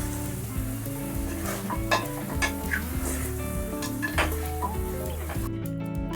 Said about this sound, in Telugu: లో ఫ్లేమ్లో పెట్టి ఒక ఫోర్ టు ఫైవ్ మినిట్స్ దీన్ని బాగా వేయించండి